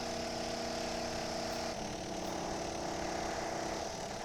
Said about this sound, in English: I'd really like to know why he's drilling holes in my castle.